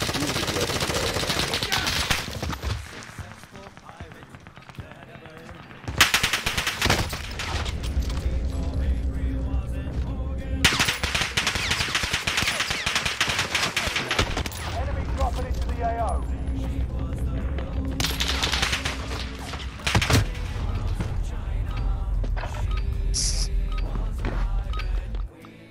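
Video game gunfire from a shooter match, including sniper shots, bursts of rapid automatic fire and single loud cracks, nearly continuous over a background of game noise while a player talks.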